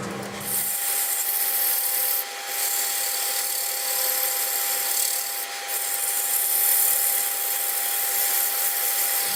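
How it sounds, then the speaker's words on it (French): A cherry wood corkscrew handle is sanded by hand with a continuous dry rubbing and scraping sound, close and steady, with two brief pauses in the strokes and no talking. "Je crois que je vais le poncer maintenant"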